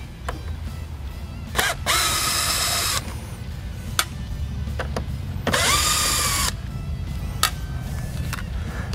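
A power drill backs out Phillips head screws during a car headlight switchback install, giving two separate whirring bursts of a couple of seconds each with clicks and handling noise between them.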